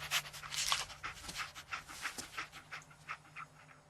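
Dogmeat, the canine companion in Fallout 4, pants in quick rhythmic bursts, close and steady, with no speech over it.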